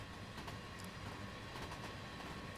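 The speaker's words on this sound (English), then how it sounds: "Oh, and we got another train here." A passing train in the railway game Train Simulator Classic gives off a steady, loud, continuous rumble of rolling wagons with faint clatter on top, and no talk over it.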